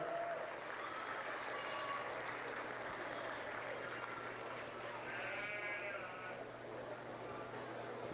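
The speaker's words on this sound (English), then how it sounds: "Let's put our hands together for Ike and Emily for that" An audience applauds in the livestock arena at the Monroe County Fair after a mini goat show, with a long, steady spatter of clapping mixed with sheep or goat bleats and people talking.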